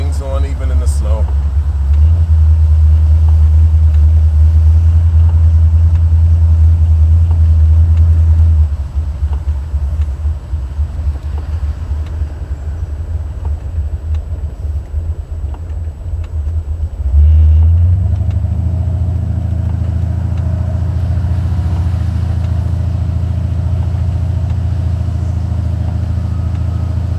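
Buick 455 Stage-1 Regal-T on drag radials driving on a snowy road, a loud steady low engine rumble that drops off partway through, then swells again as the car pulls on, with speech heard over it.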